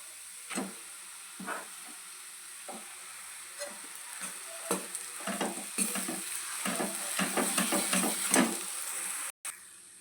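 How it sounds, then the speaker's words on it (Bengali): Boiled potato stirred into fried spice masala in a pan for Bengali egg devil. A steady low sizzle runs under repeated scraping and clinking strokes of a spatula, growing busier toward the end. "মশলাটা কষিয়ে নিয়েছি, এর মধ্যে দিয়ে দেব সেদ্ধ করা আলু।"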